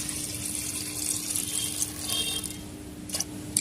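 Water pours into a pressure cooker holding chickpeas, a steady close rush of splashing liquid with a faint underlying hum throughout.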